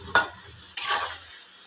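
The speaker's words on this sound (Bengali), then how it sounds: "আলুটা ভাজা হোক" Potatoes frying in a pan for a home-cooked mutton meal, giving a steady close sizzle with two sharp stirring scrapes, one near the start and one midway.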